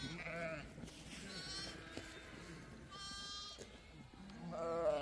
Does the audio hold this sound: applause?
no